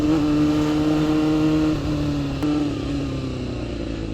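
Suzuki Bandit 250 GSF V motorcycle being ridden, a steady high-revving inline-four engine drone with a brief gear shift midway, loud and close without talk.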